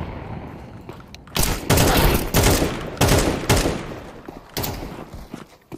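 Rapid automatic gunfire in repeated bursts, loud and close, with booming sharp shots filling the clip.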